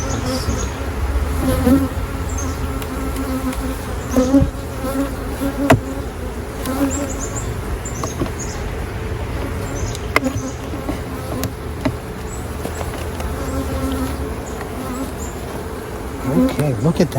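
Russian honey bees buzz around an open hive during a July honey harvest, a dense, steady hum close by that holds throughout, with a brief spoken word in the background.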